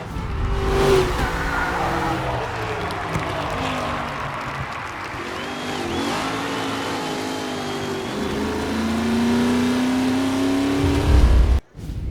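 Race cars roaring off the start in Mafia: Definitive Edition, engines revving loud and steady through a drawn-out acceleration with rising pitch, tire noise underneath, then a brief cut near the end.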